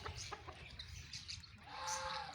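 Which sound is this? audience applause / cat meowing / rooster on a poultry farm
rooster on a poultry farm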